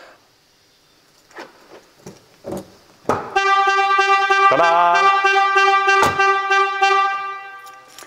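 A short exclamation and a few clicks, then the alarm-system horn of a Casalini Twist+ microcar blares loud and steady for several seconds before cutting off.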